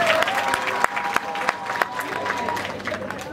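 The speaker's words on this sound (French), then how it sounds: "Applaudissez pour elle." Wedding guests applaud, scattered claps standing out over a murmuring crowd, with a few sharp individual hand claps and voices in the background.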